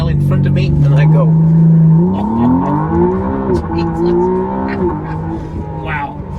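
A 2023 McLaren Artura supercar launches hard from a standstill, its engine note climbing loud and close through the gears with a sustained rising roar.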